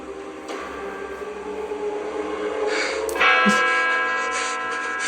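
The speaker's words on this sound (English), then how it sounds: "In a moment, bells will chime." A set of chiming bells rings out in a sustained, resonant wash, swelling slightly partway through with a brighter struck tone, fairly loud and steady with no talking.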